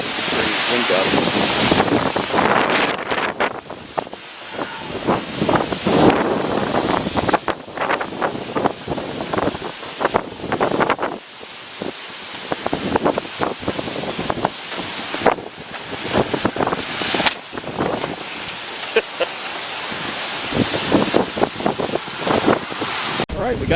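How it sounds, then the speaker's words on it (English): Strong wind gusts from Tropical Storm Isaias buffet the microphone on Long Island, roaring in uneven bursts with rustling and surges that rise and fall throughout. "Wind gusts."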